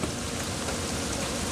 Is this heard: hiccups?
no